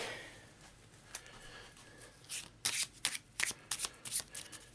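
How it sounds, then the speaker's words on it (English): An Eldritch Horror Otherworld encounter card deck gets a quick shuffle, a run of soft, close riffling flutters and snaps over faint room noise, growing busier toward the end. "Give it a quick shuffle."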